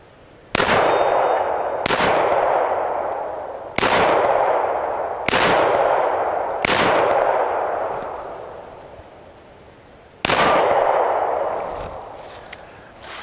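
Six sharp shots from a Glock 30SF .45 ACP pistol, each followed by a ringing clang off a steel target that decays slowly. Loud, irregularly spaced bursts with a longer pause before the last shot.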